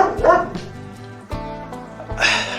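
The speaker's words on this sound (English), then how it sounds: "the obligatory dog barking in the background" A dog barks in short repeated bursts, a few yips and bow-wows, fairly close and clear on a street in northern Spain, with no voices.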